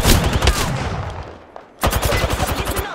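Rapid automatic gunfire in the Apex Legends battle royale game, a loud close burst that trails off, then after a brief lull a second fast, rhythmic volley of shots, with no voices.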